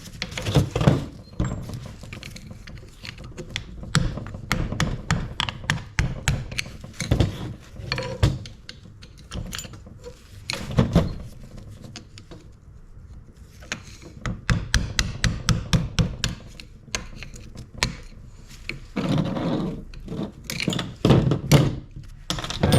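Repeated sharp metallic hammer blows on a Jeep JKU axle shaft ring out in uneven bursts, some rapid and some spaced, close by with little else audible.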